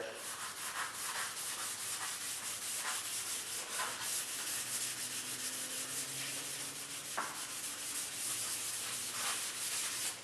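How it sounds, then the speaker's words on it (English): A gray Scotch-Brite abrasive pad rubs steadily back and forth over coated edges, a continuous broadband scrubbing hiss in close, sustained strokes with no talking. "We've been going back over those with the gray Scotch-Brite."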